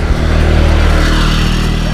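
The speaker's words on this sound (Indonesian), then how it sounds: "Awas ada motor" A motorcycle passes close by on a road, its engine a loud steady drone with a low pulsing rumble throughout, no talking.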